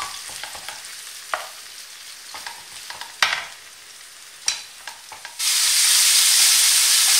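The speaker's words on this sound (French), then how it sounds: "Je la laisse cuire à feu moyen jusqu'à coloration de la viande. Je dirais 8 à 10 minutes en remuant de temps à autre." Shawarma meat cooks over medium heat in a pan, sizzling softly with occasional scraping stirs, then bursts into a loud, dense, continuous hiss for the last couple of seconds.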